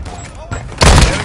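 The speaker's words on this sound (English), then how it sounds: "Hostile mortar strike in the area." Hostile mortar strike in Call of Duty, a loud dense burst of explosive impacts crashing in near the end after quieter game noise, with voice chatter audible beneath.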